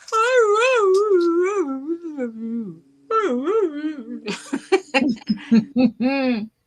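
A human voice imitates Norton the dog's howl with long, wavering, rising-and-falling moans, then breaks into choppy laughter and chatter close to the microphone.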